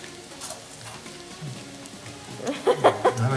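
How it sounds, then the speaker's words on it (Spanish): Garlic frying in oil until golden for garlic bread, a soft steady sizzle that swells into louder crackling bursts near the end, with a voice speaking faintly in the background. "vamos a esperar a que los ajos se pongan doraditos."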